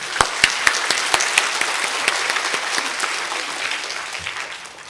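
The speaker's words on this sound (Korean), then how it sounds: "우리 목사님 모실 때 박수로 환영하겠습니다." A church congregation at a Wednesday daytime worship service at Yeouido Baptist Church claps in welcome for a visiting pastor: dense, steady applause that starts with a few sharp claps and gradually thins and fades.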